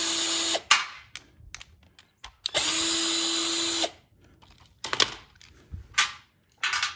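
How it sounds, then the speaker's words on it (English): Two bursts of a power drill driver whirring at a steady pitch while removing carburetor bolts from a 2017 Yard Machine self-propelled mower, separated by clicks and clanks of handling parts. "Now, we gotta pull off these two bolts. They are 7 mil or 9/32."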